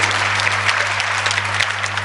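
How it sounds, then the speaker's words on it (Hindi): Audience at an outdoor pandal comedy poetry event breaks into a dense, steady burst of clapping, loud and close, with a low hum running underneath. "सर तालियां बजा दो"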